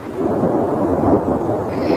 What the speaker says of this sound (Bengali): এক ঝলক তীব্র বজ্রপাতের আলো ছিঁড়ে দিল আকাশের বুক